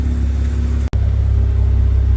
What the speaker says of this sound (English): we'll just leave her sitting here to idle probably for about 10 or 15 minutes